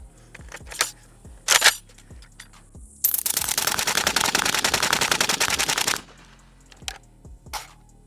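A Pioneer Arms 556 Sporter AK rifle fires a few spaced single shots, then a loud, sustained rapid string of shots lasting about three seconds, followed by more scattered single cracks.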